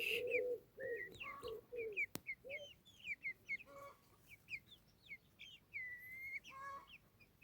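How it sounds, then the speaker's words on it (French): Hens and roosters cluck and chirp in short, scattered bursts, several birds close by, with a sharp click partway through and quiet background between calls. "Donc il y a 4 poules et 5 coqs."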